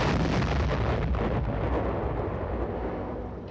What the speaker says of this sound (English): will set off the charge which simulates an atomic explosion.